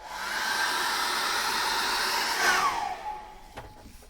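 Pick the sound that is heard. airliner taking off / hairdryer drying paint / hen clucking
hairdryer drying paint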